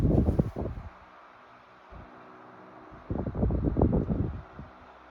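A Sanyo Dynamic Wide 12-inch oscillating fan, model EF-6KP, runs on low speed with its blade bobbing forward. It gives a soft, steady airy hum broken by irregular low, buffeting thumps close by.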